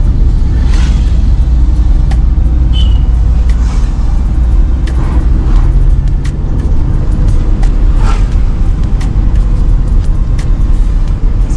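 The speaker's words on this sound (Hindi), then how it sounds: "रोड अच्छा है तो गाड़ी भी सही स्पीड में चल रही है।" A car cruises at steady speed along a good mountain road near Almora, its loud, continuous low rumble of engine and tires filling the interior, with occasional light knocks and rattles and no talk.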